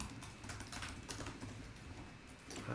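Typing on a MacBook keyboard: a steady run of close, quiet key clicks at an irregular rhythm, slightly busier near the end, with no voices.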